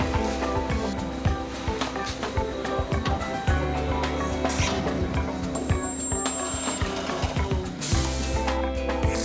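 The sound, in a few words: spot welding cover plate at the flanges, Opel panel repair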